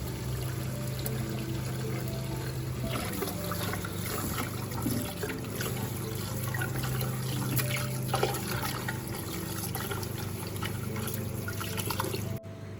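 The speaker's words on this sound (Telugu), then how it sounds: "ఇప్పుడు ఈ రైస్ను క్లీన్గా వాష్ చేసుకొని కుక్ చేసుకుందాం." Rice being washed in water by hand for an egg curry meal: a steady, close swishing and pouring of water with trickles and drips, continuous throughout with no talking.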